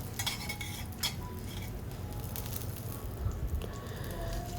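Urad dal fried in hot coconut oil is stirred steadily in a pan, with a continuous soft crackle under repeated scraping and clinking of a utensil against the metal.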